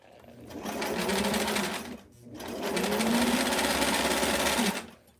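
A domestic sewing machine runs close and loud while stitching a curved seam with a 3/8 inch allowance on a Barbie square dance dress, in two steady whirring bursts separated by a brief pause.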